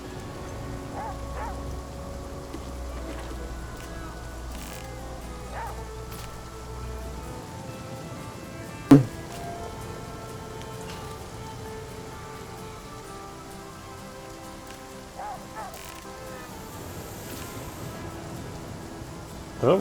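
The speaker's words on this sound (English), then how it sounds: "I'm not gonna let this rain get me down." Steady rain falls throughout a scene in the survival game The Flame in the Flood, a continuous broadband hiss with occasional sharper clicks and thumps breaking through, while a low game tone fades out partway and a voice talks at times.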